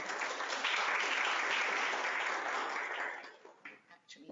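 Audience applause at a university lecture welcome, a steady, dense roar of clapping for about three seconds that thins out into scattered claps before fading.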